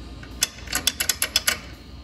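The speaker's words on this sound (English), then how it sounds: "don't use a ratcheting wrench on them studs apparently." A ratcheting wrench clicks rapidly on studs while installing air ride on a 1958-64 Chevy Impala, a quick run of about eight sharp metallic ticks, close and alone.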